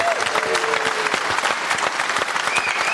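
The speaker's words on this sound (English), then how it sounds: "Give him a round of applause." Studio audience applause on a rugby chat show, steady and fairly loud with dense overlapping claps, and a brief voice audible early on.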